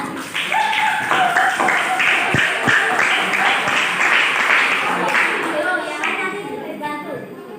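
A classroom of students clapping for a group about to present, a loud burst of mixed claps tapering off over several seconds, with children's voices and chatter running throughout.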